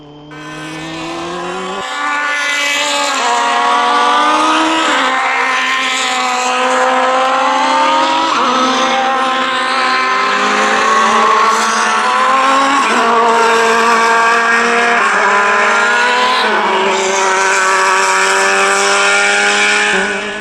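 From inside a vintage SVRA Group 9 race car lapping Portland International Raceway, a loud engine howls as it climbs through the revs, with repeated gear shifts cutting the pitch at regular intervals.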